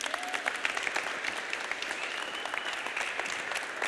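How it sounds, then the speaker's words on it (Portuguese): A church congregation at a Sunday service claps together in sustained, dense applause that holds steady throughout, with no one speaking over it. "Vamos dar uma salva de palmas para Jesus."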